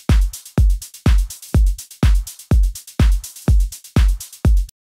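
A simple techno drum pattern thumps steadily, ten punchy kick hits with bright hi-hat and percussion tails in a regular four-on-the-floor rhythm, loud and close with no talking.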